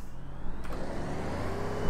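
A truck engine in the driving game Truck World revs steadily, a continuous low rumble with the throttle rising a little near the end, no voices over it.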